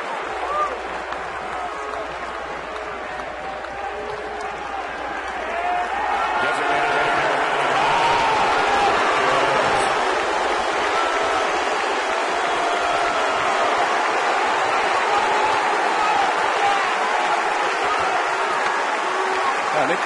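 A baseball crowd at Fenway Park in Boston claps and boos, a broad continuous roar of mixed applause and booing that swells partway through and stays loud.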